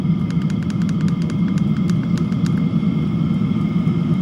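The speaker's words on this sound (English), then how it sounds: "if I turn it up, the pump gets slightly louder and much faster. And so does the blower motor" A diesel heater's fuel pump ticks in a fast, steady rhythm of sharp clicks over the constant whirring hum of its blower motor, both running at a higher setting, close and unbroken.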